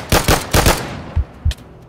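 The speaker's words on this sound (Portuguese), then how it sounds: "eu tô ouvindo tiros ali em cima" Two quick bursts of rapid gunfire followed by two single shots in The Last of Us zombie video game, loud and sharp, with nothing else around them.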